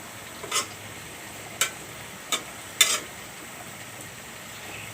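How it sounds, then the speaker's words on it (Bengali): A spoon gently stirs a simmering curry of jackfruit seeds, taro stems and shrimp in a pot, giving four or five soft, separate scraping clicks over a faint, quiet background. "খুব আস্তে করে লাড়া দিতে হবে, নাহলে গলে যাবে"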